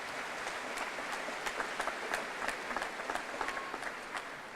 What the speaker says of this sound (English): let's give Pedro a round of applause